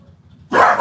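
Dogs barking at a loud motorcycle next door: a sudden loud, close bark bursts in after a quiet low rumble.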